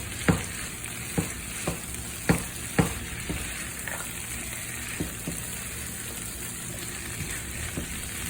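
A vegan seafood lasagna filling sizzles in a pan, with several sharp scrapes and knocks of a spoon stirring it over a steady frying hiss.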